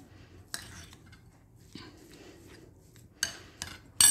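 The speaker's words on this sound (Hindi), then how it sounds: "इसको अच्छे तरीके से मिक्स कर लेना है" A spoon mixes bread pakora batter in a bowl, giving a few sharp metallic clinks and scrapes against the bowl spaced through quiet stirring, close and fairly clear.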